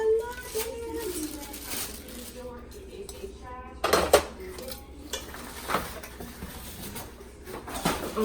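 Purple Rachael Ray hard-anodized nonstick cookware is unpacked, giving steady rustling and light metallic knocks, with one sharper clank of pots and pans midway. The sounds are close and fairly quiet.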